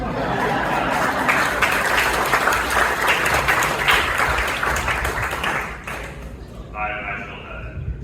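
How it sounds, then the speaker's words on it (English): Applause in a US House Transportation and Infrastructure Committee hearing room in Everett, a dense sustained round of clapping for several seconds that fades out, followed by a brief tone and a voice speaking. "Pause here for applause."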